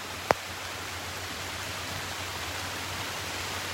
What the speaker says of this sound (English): It is raining hard now.